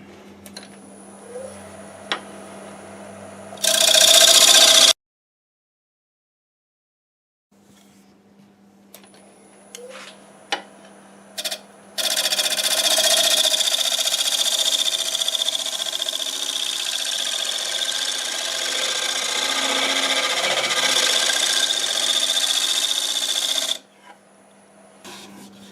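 A scraper cuts against a spinning maple burl on a lathe, a loud steady rasping whine that starts and stops, with a short silence between passes.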